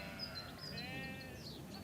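Devon and Cornwall Longwool sheep bleat faintly at a distance, a soft wavering call drifting over a steady outdoor hush.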